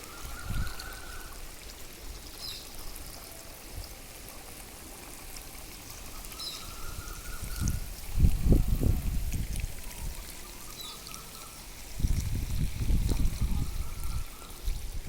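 GEMs solution being sprayed, with water pouring and trickling steadily throughout and louder splashing bursts around the middle and near the end.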